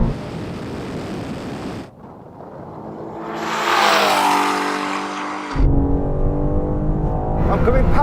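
Bugatti Chiron Super Sport in a drag race against BMW M4 and M5, a loud broadband engine roar that drops out briefly then surges again, with wind rush and excited shouting over it.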